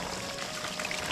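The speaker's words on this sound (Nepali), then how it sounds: "यसरी पानी चाहिँ यहाँनिर जाँदैछ" Water flows and trickles along a channel in a steady, close splashing rush that continues without a break.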